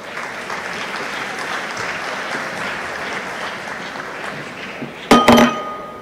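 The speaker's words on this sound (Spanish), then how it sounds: "los recibimos con un aplauso" Sustained applause from a conference audience welcoming speakers onto a stage, a dense, even wash of clapping, ending with a few bright clinks near the end.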